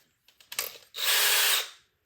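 A power drill whirs in a steady, loud burst lasting under a second, drilling a hole in a model viaduct, preceded by a few short clicks and a brief rev.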